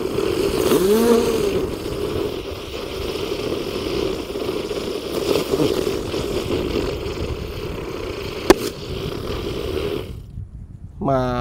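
Five gangsing spinning ground fireworks burn together in a hole in the earth, giving a loud, steady hissing roar that carries on for many seconds. One sharp pop stands out near the end, just before the roar suddenly cuts off.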